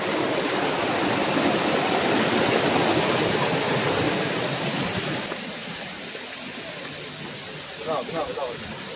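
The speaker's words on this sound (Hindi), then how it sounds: "ये पानी पहाड़ों से आ रहा है ठंडा।" Cold water from the Kashmir mountains rushing down a stream in a ravine, a steady broadband roar that eases partway through, with people talking over it.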